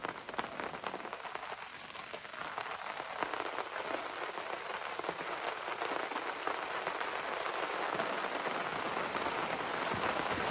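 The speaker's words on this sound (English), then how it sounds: "it is really starting to rain out now" Steady rain patters densely on a surface nearby, a constant hiss of drops that grows slightly fuller as it goes on.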